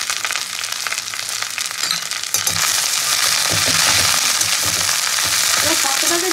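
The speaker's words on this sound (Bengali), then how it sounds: "এবার পাতাটাকে কিন্তু খুব ভালো করে ভেজে নেবো, যতক্ষণ পাতার থেকে রসটা না টানছে।" Kharkol leaves frying in a pan crackle and sizzle loudly, with stirring scrapes, and the sizzle swells into a denser, continuous hiss partway through.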